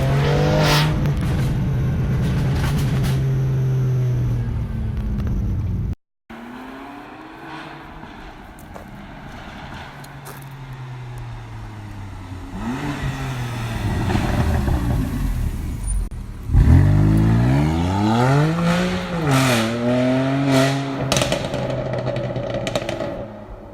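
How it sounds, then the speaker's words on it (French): A Shiftech-tuned BMW M2 Competition engine pulls hard through several gears, its rising roar breaking off at each shift before climbing again, loud and close for the whole run, with no voices over it. "je faisais une petite accélération pour lui faire écouter le doux bruit mélodieux de la M2 Shiftech"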